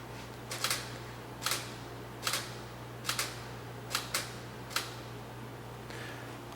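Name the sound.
camera shutter clicking while photographing a desk area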